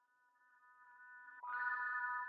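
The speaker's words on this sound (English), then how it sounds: "I cut a little bits out and I just reversed it so it sounds like this." A reversed chord sample in an R&B production swells steadily louder as a riser, then the full chord breaks in brightly and holds, with no talking.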